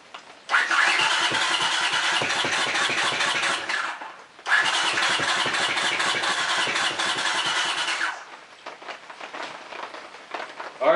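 A Honda CX500 motorcycle engine cranks and catches twice, running rough on choke in two loud bursts of several seconds each, then settles into a lower, uneven idle.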